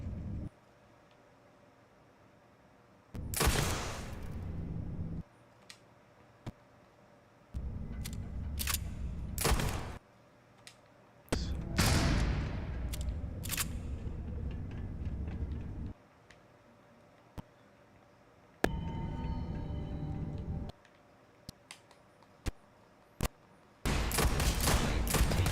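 Gunfire in the Starfield video game comes as separate short volleys and single sharp shots, spaced by quiet gaps over a faint background hum. The bursts are moderately loud against an otherwise low, still backdrop.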